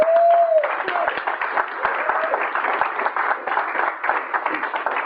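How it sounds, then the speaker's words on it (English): Sustained applause from an audience at an evening recovery meeting greets a speaker, dense steady clapping filling the whole stretch, with a brief whistle-like tone at the start. "Y'all give a round of applause for him."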